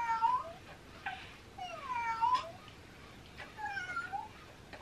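A toy kitty meows repeatedly during family Christmas-morning gift opening, the electronic mews coming in short rising-falling bursts at moderate volume with brief gaps, alone without talk.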